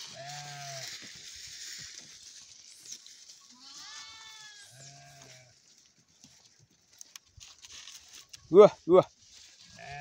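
Sheep bleating as they enter their pen after grazing in the forest in the afternoon: a few separate, fairly close bleats with quiet gaps, then a person calls out sharply near the end.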